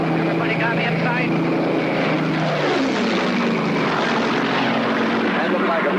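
The RB-51 Red Baron propeller racing plane, on a 1979 world air speed record attempt, roars loudly and continuously as it makes a low pass, its engine pitch dropping midway as it sweeps by.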